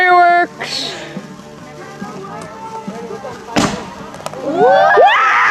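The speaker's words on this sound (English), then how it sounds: "Fireworks!" Backyard fireworks at night: a sharp burst near the end of a crackling, whistling stretch, followed by rising squealing whizzes, with people talking and exclaiming throughout.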